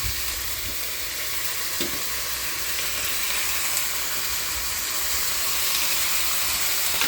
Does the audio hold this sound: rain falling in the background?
no